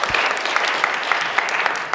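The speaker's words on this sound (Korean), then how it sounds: "자, 박수 한번 칩시다." A church congregation gives a short round of applause with distinct individual claps close by, quick and uneven.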